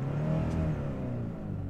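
Mitsubishi Shogun Warrior engine pulling as the vehicle accelerates on the road, a brief steady mid-pitched drone and whir heard from inside, fairly quiet and without talk.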